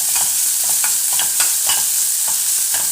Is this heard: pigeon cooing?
no